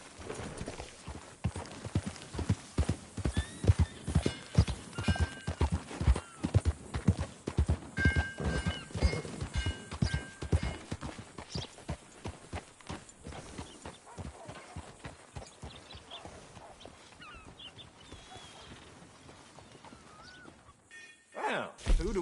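Horse hooves clip-clopping in Red Dead Redemption 2: a dense, rhythmic run of close hoofbeats that slows and thins toward the end, with occasional whinnies and some talk mixed in.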